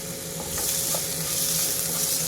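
Finely chopped onion with salt fries in a pan, a bright continuous sizzle that swells after the first half second and holds steady, close, with faint stirring taps.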